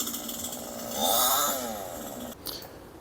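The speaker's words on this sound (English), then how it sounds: "get one of the neighbors to come with his chainsaw and cut down a tree" A neighbor's chainsaw cuts down a tree at a house build site, its engine buzzing steadily at a distance and rising briefly as the cut bites.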